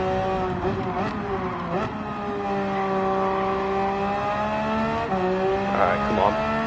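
A Porsche race car's engine in Gran Turismo 7 drones steadily and loudly, its pitch rising and falling through gear changes, with short shifts and blips near the start and again around the fifth second.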